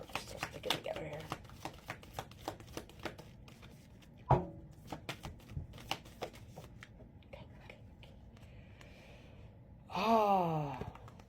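Tarot cards being shuffled close by in a quiet room, a run of short papery flicks and riffles with one sharper slap midway, followed by a brief breathy vocal sound near the end.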